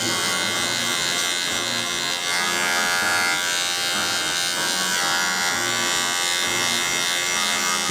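A steady, close electric hair clipper buzzes without pause while a skin fade is cut and the grade transition is refreshed.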